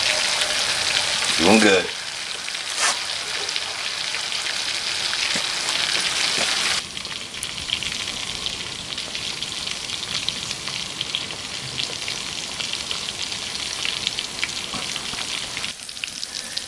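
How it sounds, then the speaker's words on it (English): Food fries in a heavy-duty stainless steel Stanley fry pan, a loud close sizzle that eases to a steadier crackling hiss, with a brief spoken remark near the start. "these guys are frying up nicely in this Stanley Fry kit"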